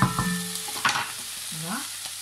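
Onion sizzles and fries in a pan while being stirred, soft crackling and scraping heard close, with brief tonal sounds over it.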